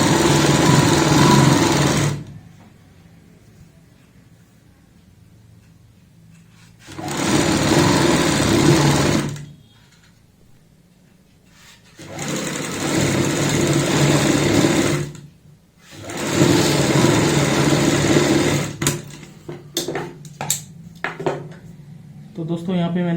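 Stitching a kurti neck design, a sewing machine runs in four loud, close bursts of a few seconds each, with quiet gaps of handling noise between them.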